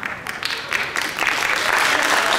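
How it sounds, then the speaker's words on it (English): An audience at a school winter band concert claps, the applause building in volume and density across the moment without any talking. "The appropriate time is to clap when we're finished."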